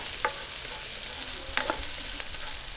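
Garlic sautés in hot oil in a pan for pork kaldereta with coconut milk, a continuous near hiss of frying broken by a few sharp spatula scrapes.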